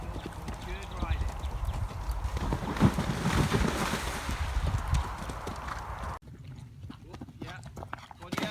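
A horse cantering during cross-country jumping training, with a steady rhythmic run of close hoofbeats on ground, wind noise, and a coach calling out over it before the sound drops quieter near the end.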